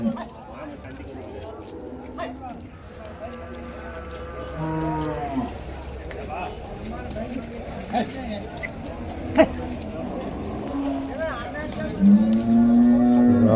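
Cattle moo repeatedly at the Vaniyambadi cattle market, with several drawn-out lowing calls rising over steady crowd chatter and people talking nearby, and a loud close moo near the end.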